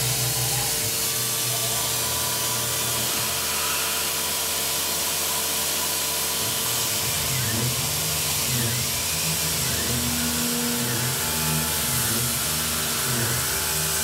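A Tormach 770 mill spindle loads down while a Lakeshore Carbide TAS rougher cuts, giving a loud continuous mechanical drone whose pitch dips and swells in repeated waves as the tool bites in, with no talking.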